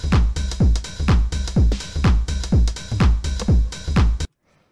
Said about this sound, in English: So I'll just show you the drums first real quick.